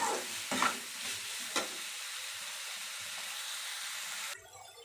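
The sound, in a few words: sautéing turkey berries and amaranth stems for chutney in a pan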